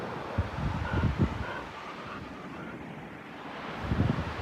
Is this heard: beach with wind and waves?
yes